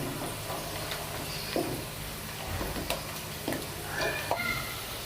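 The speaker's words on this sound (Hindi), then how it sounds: "प्याज को अच्छे से हमने फ्राई कर लेना है" Onions frying with star anise, cinnamon and cloves in a pot for haleem, a soft steady sizzle with occasional stirring scrapes and light clinks, faint and close, no talking.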